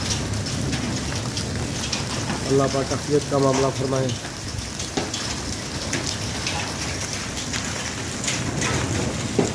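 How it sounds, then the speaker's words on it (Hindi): Rain and hail fall hard outdoors in Bathi Qaisrani, a constant dense hiss and patter with scattered sharper impacts, loud throughout, while someone speaks over it for a few seconds. "अभी तक ये ओले जारी हैं, ना बारिश थमने का नाम नहीं ले रही और ना ही ये ओले कम होने का नाम ले रहे"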